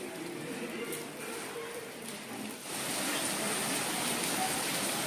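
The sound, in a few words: heavy rain falling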